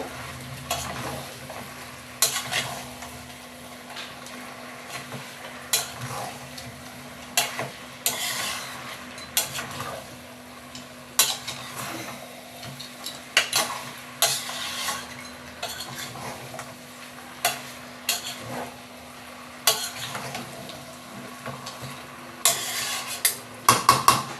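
Bengali-style mutton curry with added mutton fat being stirred in a pan, a soft sizzle under a long run of irregular metal scrapes and clanks of spoon against pan.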